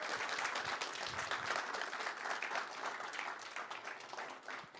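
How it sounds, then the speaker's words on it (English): Participants at a built environment digital twin hackathon applaud at the finish, a steady dense round of clapping held at an even level for several seconds before tapering slightly at the end. "give yourself the round of applause because you made it"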